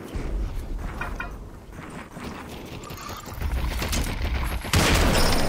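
Sustained video game gunfire crackles through a shootout, dense overlapping shots rattling continuously and swelling louder in the final second.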